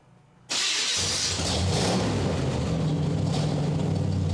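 A custom car built around a 1968 MGB engine fires up suddenly and revs hard with a loud, throaty, sustained roar close by as it pulls out.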